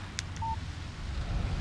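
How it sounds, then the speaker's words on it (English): A phone text message alert in the video game Alan Wake Remastered: one short electronic beep over a low, steady game ambience. "Text message from Barry."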